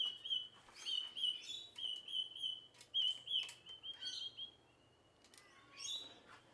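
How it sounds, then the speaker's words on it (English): Small birds chirp and trill outdoors in the cooling evening beside a gas barbecue, repeated bright tweets and quick twittering phrases at moderate distance over a low steady hum, with no talk. "All the birds are coming out because it's cooled right down now and all chirpy."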